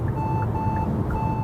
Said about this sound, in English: if I were to turn on my turn signal while somebody is in my blind spot, it's flashing at me and beeping at me